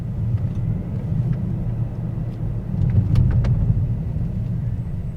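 A 2026 Mercedes-AMG S63 E Performance S-Class driving at night in comfort mode, with a steady low engine and road rumble inside the cabin that swells slightly midway.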